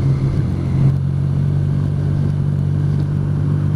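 A motorcycle being ridden through a countryside village past an old church, its engine giving a loud, steady drone with a constant low rumble and no talk.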